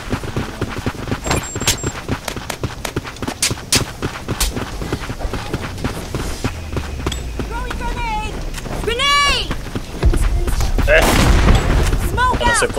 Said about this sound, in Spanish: se comió la granada y los balazos